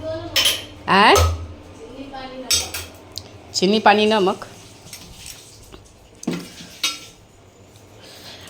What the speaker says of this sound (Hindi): सबसे पहले उठेंगे और चढ़ा देंगे इन बर्तनों को।